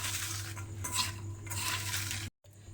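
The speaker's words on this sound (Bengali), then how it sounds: "নুনটা দিয়ে এবার পেঁয়াজটা আমি হাত দিয়ে খুব ভালোভাবে একটু এইভাবে মেখে নেব" Sliced onion being mixed with salt by hand in a bowl, soft close squelching and rustling with a few light clinks, continuous and quiet, cut off briefly near the end.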